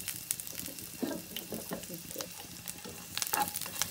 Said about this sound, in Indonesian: Udah panas dia, kita masukkan bawang putih tadi yang udah digeprek-geprek.